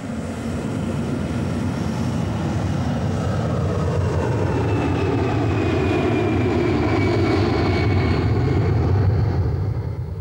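A 1980s airliner's jet engines roar steadily during takeoff, a loud broadband rumble with a faint high whine gliding slowly downward, heard alone with no talk.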